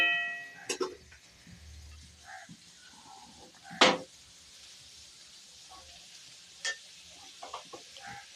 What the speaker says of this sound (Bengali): এবার আমি এর মধ্যে সাবুটা দেবো।